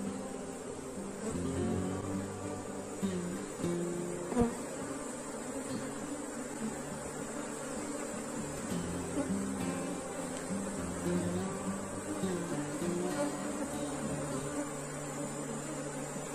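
Dense, steady buzzing of a small honeybee swarm left behind in a hive box, a close drone of many bees with fluctuating pitch, a faint knock near the middle and no talk.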